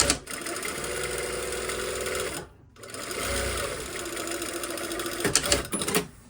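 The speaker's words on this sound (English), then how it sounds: "I'm just going to do a quick top stitch" Sewing machine running steadily to top stitch a slash pocket, a loud continuous mechanical whir that pauses briefly partway through, then resumes with a few rattling clicks near the end.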